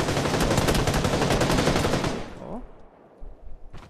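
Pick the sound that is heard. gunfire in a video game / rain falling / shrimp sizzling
gunfire in a video game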